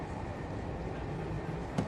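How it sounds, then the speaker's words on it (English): Express train moving at speed, a steady low rumble and wheel-on-rail roar heard from inside the carriage, with a brief knock near the end. "this is a fucking express train"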